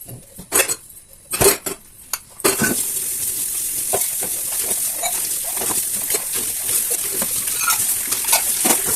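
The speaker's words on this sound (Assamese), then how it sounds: "আৰু লগে লগে মই বাচনখিনিও মাজি থৈ দিলো" Dishes being scrubbed by hand: a few sharp clinks and clatters of utensils come first, then a steady rush of running water with scattered knocks of plates and pots.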